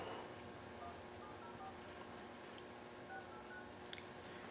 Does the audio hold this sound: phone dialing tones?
yes